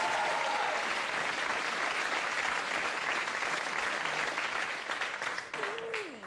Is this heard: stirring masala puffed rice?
no